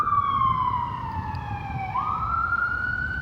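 An ambulance siren wails loud and close, its steady tone sliding slowly downward and then jumping back up as it passes, with road noise underneath and no talking.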